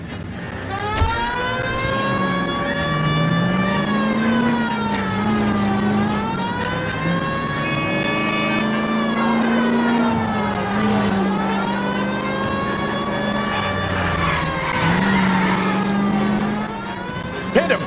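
In the L.A. Noire game, a police car drives at speed with its siren wailing loud and continuous, rising and falling in long sweeps over a low engine drone.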